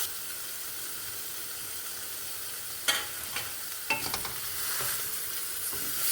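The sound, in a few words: paneer frying in butter in a pan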